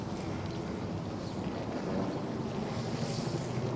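Steady wash of open water and waves off Governors Island, New York, mixed with wind buffeting the microphone and a faint boat-like rumble, continuous and fairly soft with no talking.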